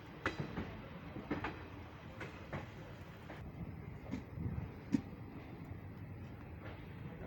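Passenger train of the Vishwamanava Express pulling out of Londa Junction near Belagavi, with a steady low rumble and scattered wheel clicks and clanks heard from inside the carriage, fairly quiet and continuous.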